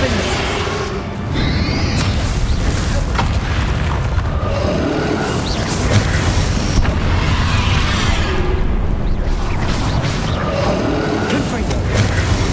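Confringo fire spell blasts in Hogwarts Legacy, a loud continuous roar of booming explosions over game music, with a brief shout of a spell name near the start.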